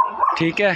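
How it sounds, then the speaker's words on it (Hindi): A dog yelps and barks in short, near, high-pitched bursts in a rural Pakistani village, with someone talking briefly over it. "तो फिर ये कुत्ते भौंक रहे हैं"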